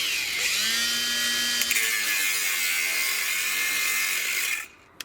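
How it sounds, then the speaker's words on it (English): A battery-powered angle grinder cuts material while a greenhouse base is built, a steady high whine that runs close and loud, then dies off abruptly near the end as the flat battery cuts out. "I've got to cut it, so I've got an angle grinder."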